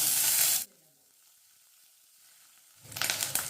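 Ginger paste and chopped green chilli frying in oil tempered with panch phoron, a loud sizzle that drops suddenly to near silence for a couple of seconds, then surges back with crackling hiss.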